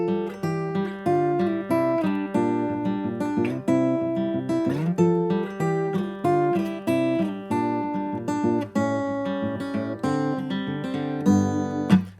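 Acoustic guitar fingerpicking part 2 of a song, a steady stream of plucked notes over a moving bass line, close and clear and played alone with no talking.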